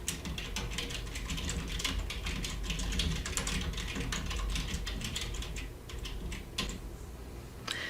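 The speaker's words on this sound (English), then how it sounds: "I type my message inside." Keys on a computer keyboard clatter steadily as a message is typed, with fast, close clicks running almost without a break before a brief pause and a few final taps.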